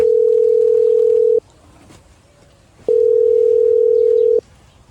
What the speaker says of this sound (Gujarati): આખી રીંગ વાગે છે તો ફોન ચમ નથી ઉપાડતી